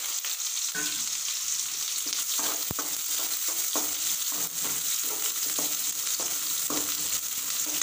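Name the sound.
onions and curry leaves frying in oil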